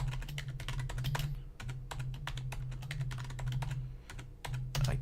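Rapid keystrokes clatter on a computer keyboard as a password is entered, a quick irregular run of close, crisp taps over a low steady hum, with no talking.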